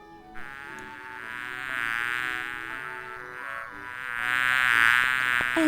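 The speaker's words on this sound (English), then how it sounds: "And a bee." Steady insect-like buzzing drone of a bee, continuous and fairly close, swelling and fading slightly in loudness throughout, with no talk over it.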